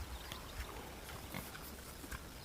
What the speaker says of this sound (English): I got pigs, my boar, and some other pigs that I'm fattening them up to butcher to sell as butcher hogs